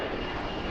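An aircraft landing on runway 1 at Washington Reagan National Airport gives a loud, dense, continuous engine roar close by, with no voices over it.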